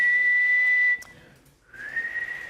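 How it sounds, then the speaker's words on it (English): A person whistling a loud, sustained high note on a television talk show, breaking off briefly, then a second, wavering whistle that rises and holds with a slightly shaky pitch. "Let me hear you whistle."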